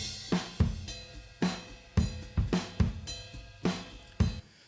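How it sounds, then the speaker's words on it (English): Compressed and EQ'd drum kit room mics carry a steady groove of punchy kick and snare hits, each followed by a thick, sustained room wash that stays loud between strokes, with a sharp hit near the end. "And with a bit of compression and a little bit of EQ,"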